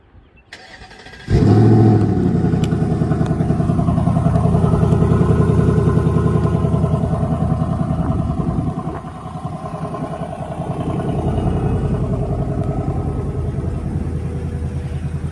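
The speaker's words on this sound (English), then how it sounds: "we will remote start it now" A 2024 Ford Mustang GT Convertible fires up by remote start with a sharp cranking burst, then settles into a loud, steady, rumbling idle close by, with no one talking.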